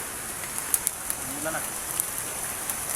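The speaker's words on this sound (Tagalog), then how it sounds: "Nabutan na kami ng ulan" Steady rain hissing on surfaces nearby, with scattered sharp drips and taps ticking through the wash.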